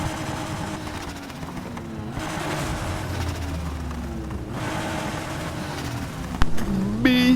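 A Chevy C10 truck engine in NFS Heat drones steadily with a low, rough tone, holding close and loud, then surges louder near the end as a brief sharper burst cuts in.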